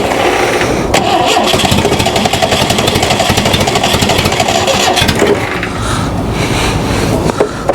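Ford Pinto-powered kit car engine, left sitting outside since 1995 and leaking badly, cranks steadily and loudly without catching, a continuous churning starter whir that falters briefly near the end.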